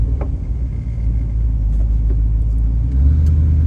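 A 1968 Chevrolet Camaro cruises down the road with a deep, steady engine rumble and road noise, heard from inside the car, and a slight swell toward the end.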